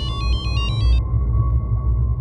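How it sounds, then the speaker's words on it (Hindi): A telephone rings with a rapid electronic trill pulsing about six times over a steady low hum, then cuts off abruptly, leaving the hum alone. "फ़ोन आया।"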